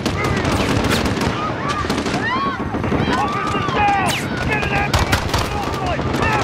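Heavy gunfire in Call of Duty Modern Warfare, dense overlapping bursts and single shots, loud and continuous, mixed with a voice talking and other game effects.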